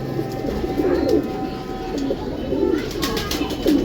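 Pigeons coo in repeated low rolling phrases close by while a golden female pigeon is handled, with soft rustling and a faint voice in the background.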